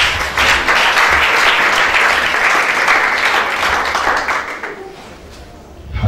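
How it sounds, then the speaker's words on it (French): A church congregation applauds loudly and steadily for several seconds, the dense clapping thinning out near the end. "acclame bien s'il te plaît"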